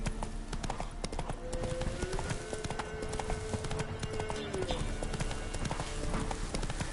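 Roach the horse gallops in The Witcher 3, with rapid, rhythmic hoof clip-clops running throughout under game ambience and a brief tonal swell.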